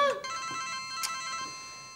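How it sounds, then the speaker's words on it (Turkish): A telephone rings with a steady electronic tone through a quiet indoor room, fairly faint and continuous, with a brief clatter near the start. "Telefon ablacığım, senin telefonun açmayacak mısın?"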